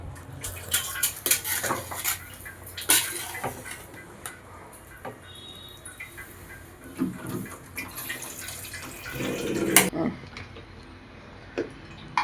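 Paneer palak pulao being stirred in a pot: irregular clinks and scrapes of a metal spoon against cookware, scattered knocks of varying loudness close by, with no talking.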